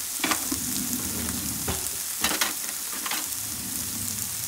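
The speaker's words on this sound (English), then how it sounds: "I'm going to use this spoon and I'm going to fry this up a little, about a minute or so." Gingee, also called Chinese okra, fries in a pan with a steady close sizzle, while a spoon stirs it and scrapes and knocks against the pan in a few sharp bursts.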